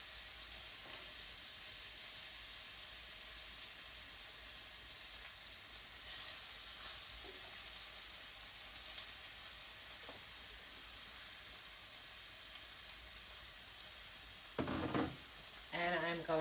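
Onion fries softly in a pan for cannellini beans, a faint, steady hiss and sizzle that continues throughout, with a few clattering stirs near the end.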